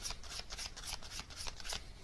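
Message cards for a reading being shuffled by hand, a quick run of soft papery riffles and flicks close to the listener, fairly quiet, with no talking.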